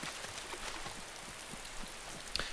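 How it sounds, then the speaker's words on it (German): Steady rain hisses in the video game Banditen Bande, a continuous broadband wash with faint scattered patters and one brief sharper tick near the end, with no voices. "Am Anfang mochte ich den Regen, mittlerweile mag ich ihn nicht mehr."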